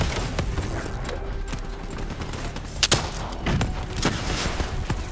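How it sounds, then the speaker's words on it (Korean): Grenade launcher fire in Call of Duty: Black Ops 3, heard as a few sharp, loud reports among steady background rumble and scattered gunfire-like bursts, with no talk. "나 지금부터 유탄 쏠 거거든"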